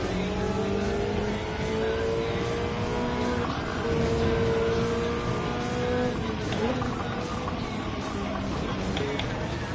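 Race car engines roaring in Gran Turismo, a loud continuous drone of revving motors with shifting pitch and occasional tire squeal, running steadily throughout.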